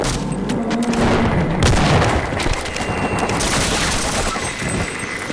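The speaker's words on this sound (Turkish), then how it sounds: "Bomba patladı." Loud, continuous bomb blasts and booming rumbles from Half-Life 1, with crackling bursts layered over a dense, chaotic din throughout.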